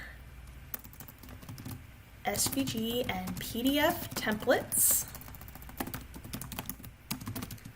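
Computer keyboard keys clatter in quick bursts of typing while someone talks over them, the clicks fairly close and mixed in with her speech.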